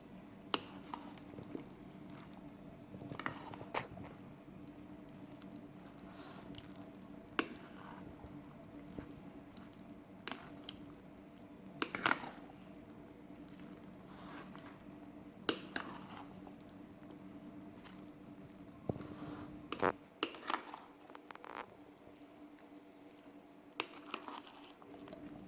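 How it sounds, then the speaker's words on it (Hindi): Russian salad ingredients being stirred together in a bowl give soft, wet squishing and intermittent tapping scrapes, close and quiet, with no talk. "अब हम इन सब चीज़ों को मिक्स कर लेंगे।"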